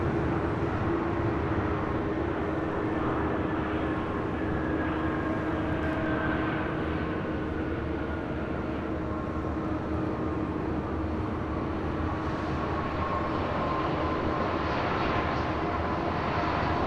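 A Delta airliner, flight 521, takes off from runway 25 right at LAX with a continuous loud roar of jet engines that hold steady throughout, with no break and no voices.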